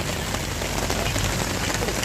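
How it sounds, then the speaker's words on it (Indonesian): Heavy rain drums steadily on an emergency camping tent, a dense and constant patter heard close from inside, with no voices. "Ini masih hujan loh guys. Di luar masih hujan ya."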